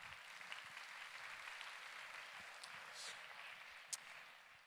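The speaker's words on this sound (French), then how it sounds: "On peut applaudir ce très beau film." Soft, fairly distant applause from an audience after a film screening at a health event, a quiet even patter with a few sharper claps standing out.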